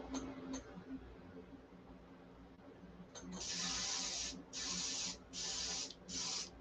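Compressor-fed paint spray gun firing in four hissing bursts of a few seconds each, loud and close, after a quieter stretch of workshop background with brief short puffs.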